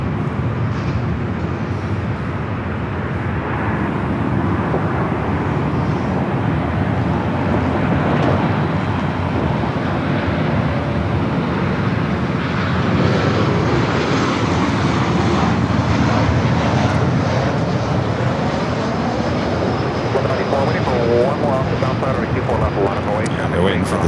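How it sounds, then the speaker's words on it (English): Southwest Airlines jet arriving at Los Angeles International Airport, a steady broadband engine roar that holds throughout and grows a little stronger midway, with voices talking over it. "we'll head to the Southwest flight up next for arrival."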